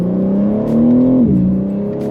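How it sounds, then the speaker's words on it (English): A BMW M3 G80 accelerates at full throttle in second gear from a low roll, the engine note climbing steadily and loud, dipping briefly at a shift-like break, then pulling on. "we'll do a second gear roll from 25"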